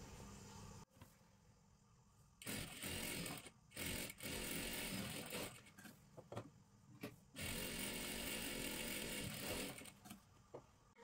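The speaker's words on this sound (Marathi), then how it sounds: "त्याच्यावरती बरोबर असं ठेवून घ्या आणि डबल शिलाई मारून घ्यायची आहे" A sewing machine double-stitches kurti and salwar fabric in several quiet bursts of whirring, separated by brief pauses and small handling clicks, close with no voices.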